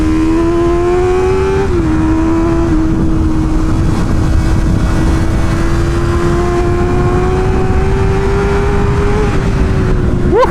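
Honda CB650R motorcycle screaming around a race track at Harris Hill, a loud steady high-revving engine note holding near one pitch with small dips at gear changes, close and continuous for the whole stretch, no talking.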